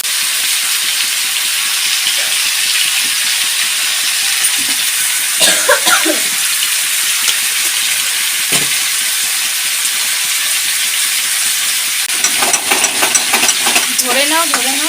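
Radish greens and egg are stir-fried in a pan with a loud, constant sizzle, punctuated by scraping stirs. A voice briefly breaks in near the end.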